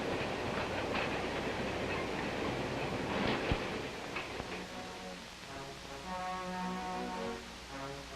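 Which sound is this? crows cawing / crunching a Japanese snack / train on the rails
train on the rails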